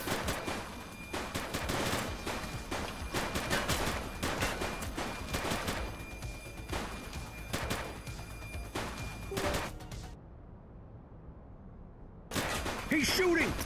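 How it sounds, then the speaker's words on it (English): Gunfire in the police game The Precinct, a long, loud run of rapid shots in dense bursts with brief gaps, then a sudden drop to near silence before another burst at the end; voices come through faintly. "Shots fired!"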